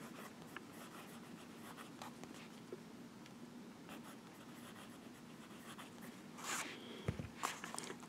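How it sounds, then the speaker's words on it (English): A Pilot Prera fountain pen with a smooth, wet medium nib scratches softly across paper, quiet close strokes in a steady rhythm with a few brief rustles near the end. "this nib on this Pilot Prera, very smooth, wet nib. Outstanding nib. Great fountain pen. When you put the pen to paper,"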